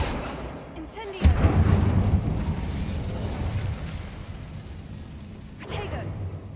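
An Incendio fire spell in Hogwarts Legacy bursts with a sudden loud whoosh, then fades into a roaring, crackling rush that tails off over several seconds, with a second softer flare near the end and a voice speaking.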